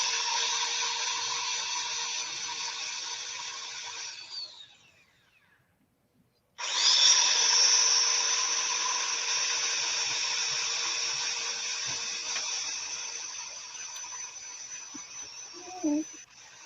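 Steady high-pitched whirring of sanding against a spinning walnut bowl on a lathe, broken by a brief pause before resuming; faint voices murmur underneath.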